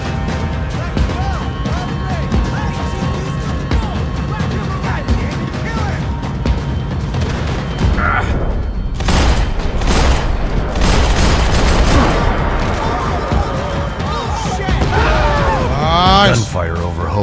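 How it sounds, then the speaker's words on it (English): Loud, rapid gunfire in a Max Payne video game, set over Hoboken, with booming blasts and crashes going nonstop, while a voice talks over the action. "Gunfire over Hoboken."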